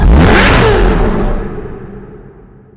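Chevrolet Corvette ZR1 V8 rated at 628 bhp, racing in NFS Hot Pursuit Remastered, opens with a loud close rev and a rushing pass, then fades steadily as the car pulls away.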